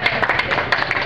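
Audience clapping at a ceremony opening a Kali Puja pandal, a brief burst of close, steady hand claps with no voices.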